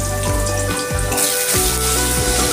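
Potatoes sizzle steadily in hot mustard oil with cumin seeds in a wok, a continuous close frying hiss broken by a few stirring scrapes.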